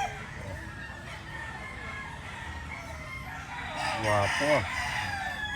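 A rooster crows once, near and loud, over a steady background hum, with a brief spoken word in the clip.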